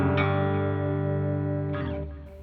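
Electric guitar chords through a Black Bobbin boost pedal with both sides engaged, sustained and ringing, with a second strum near the end, bright and slightly driven, played alone.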